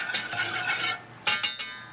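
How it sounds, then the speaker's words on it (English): A spoon stirs a ground coffee and sugar mixture in a pot with soft scraping swishes, followed by three sharp, clinking taps against the rim, close and fairly quiet. "Give that a little stir."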